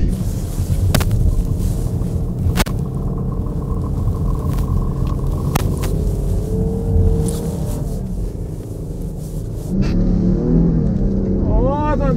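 A 2021 Toyota Land Cruiser Prado accelerating off-road in an uphill test, steady engine rumble with scraping and clunks under excited talk.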